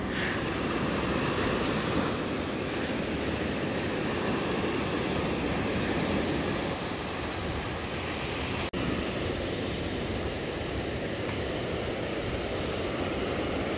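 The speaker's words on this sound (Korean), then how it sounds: "파도 소리 감상하시죠." Ocean waves at the shore on a clear day during a fishing outing, a loud, steady broadband roar of surf washing continuously, close and unbroken, with no voices.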